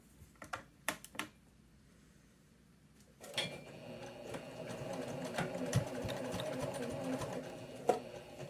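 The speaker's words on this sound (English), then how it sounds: "now I'm going to stitch in the ditch, which means I'm going to stitch right inside that seam right there all the way around" A sewing machine stitches in the ditch along the seam of a pot holder, catching the fabric binding; a few isolated clicks come first, then a steady, continuous motor whir with needle chatter runs to the end, close and fairly quiet.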